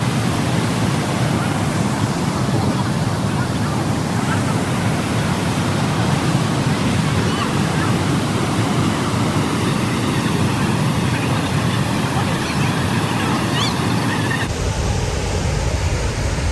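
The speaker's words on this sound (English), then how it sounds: "see the spectacular view of the waterfall and listen to the loud sound of the water." Athirapally waterfall in Kerala roars steadily and loudly as a dense, unbroken rush of falling water for the whole stretch, with no voices.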